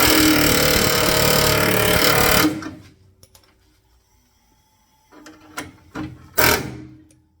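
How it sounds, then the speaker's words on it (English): MIG welding on a Datsun Z frame rail and floor panel: a steady buzzing, crackling arc runs loud and continuous for about two and a half seconds, then cuts off, followed by quieter clanks and shuffling handling noises. "One more weld right there."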